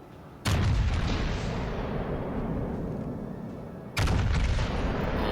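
Heavy naval gunfire booms from warships in World of Warships Legends, two loud salvos with a long rumbling roar between them, no talk.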